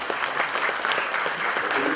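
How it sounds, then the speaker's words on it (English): A conference audience applauding steadily, dense clapping that fills the whole moment without pause. "give yourselves the loudest applause because you stay on to the end"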